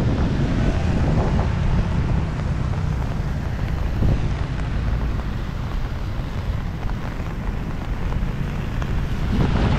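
Loud, continuous typhoon wind on the Marikina Bridge roars and gusts against the mic for several seconds, a dense low rumble with occasional stronger buffets.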